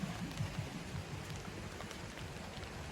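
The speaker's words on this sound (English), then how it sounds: "and then the one day I work outside, rains." Steady rain falling outdoors, a dense even patter of drops on surfaces that stays constant throughout, with no voices.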